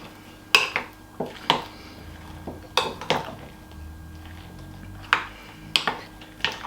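Blueberries being folded into vegan muffin batter in a bowl, with a spoon clinking and knocking against the bowl in irregular sharp taps spread across the clip, close and fairly quiet, with no talking.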